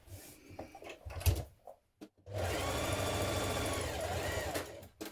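A sewing machine stitches the centre front seam joining two front facing pieces of a spring dress, running steadily for about three seconds after a few short handling knocks and a brief pause.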